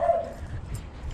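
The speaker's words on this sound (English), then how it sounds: "sounds like there's a few dogs along this fence." A few dogs along a backyard fence bark and whimper in short yips, moderately close and brief, over a low outdoor rumble.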